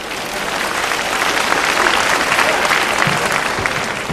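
A theatre audience at a 1995 Cantonese stand-up comedy show with Dayo Wong and Cheung Tat-ming applauds in a dense, steady roar of clapping that lasts throughout, close and loud.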